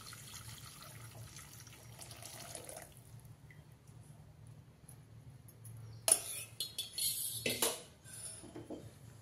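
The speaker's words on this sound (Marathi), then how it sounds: "आता हे गुळाचं पाणी मी गाळून घेते, म्हणजे काही कचरा वगैरे असला तर वरच राहतो चाळणीत।" Jaggery water pours through a strainer in a home kitchen, a quiet trickle followed by a louder splash and drip with light clinks of metal utensils.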